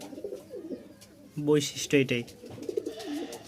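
A male Bashiraj kokka pigeon coos in two close, throaty bursts, with someone talking before and after the calls.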